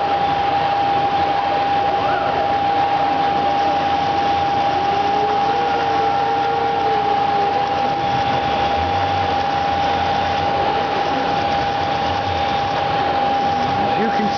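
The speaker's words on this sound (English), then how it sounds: "turn the spindle on" A Bridgeport CNC milling machine spindle runs with a steady whine and constant mechanical hum throughout, close and even in level, with faint speech-like sounds in the background.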